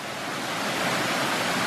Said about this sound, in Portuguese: Mostrar aqui para vocês aqui uma cachoeira que tem aqui